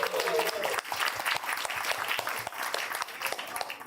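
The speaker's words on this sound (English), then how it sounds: "let's give him a huge round of applause" An audience at a coffee producer talk at a coffee roastery applauds in a dense, sustained round of clapping that fills the room from start to finish.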